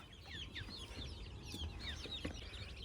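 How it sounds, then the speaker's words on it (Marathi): Chickens and their chicks peck at feed on a poultry farm, with constant high chirping and peeping from the chicks and soft clucks, a busy, fairly quiet flock close by. "ते बघा सगळे सगळे पिल्ले कसे खायला लागले बघा"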